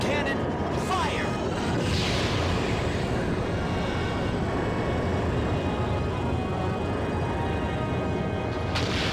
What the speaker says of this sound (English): Moonstone cannon, fire!